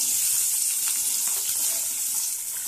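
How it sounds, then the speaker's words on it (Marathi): Onion frying in hot oil in a wok, a steady close hiss and crackle that holds evenly for the whole stretch without any voices. "आता आपल्याला कढईमध्ये तेल घ्यायचे आहे आणि त्यामध्ये कांदा टाकून घ्यायचा आहे"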